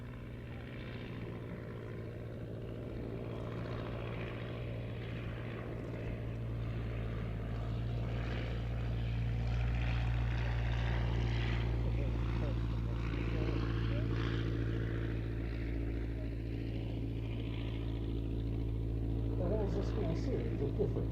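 A.V. Roe triplane, a propeller aircraft, flying at the Shuttleworth Fly Navy airshow, a steady distant engine drone that swells gently and persists under continuous commentary.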